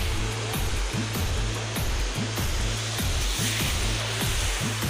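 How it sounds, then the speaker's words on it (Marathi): A steady, roaring rush of water falling at Sahastrakund Waterfall, Maharashtra, fills the clip, with a constant broadband wash and a low rhythmic thrum beneath it. "तर सगळ्यात मोठा धबधबा इथं असते"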